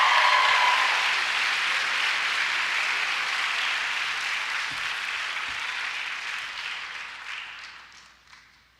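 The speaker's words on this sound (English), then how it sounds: "Please give our students one more round of applause as we welcome them to the clinical year." An audience applauds students at a physician assistant white coat ceremony, with dense, steady clapping that holds for several seconds and then gradually fades out.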